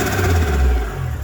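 Nissan R32 GTR engine revving hard, a loud, close, sustained roar that eases off toward the end with a fluttering turbo edge, alone with no talk.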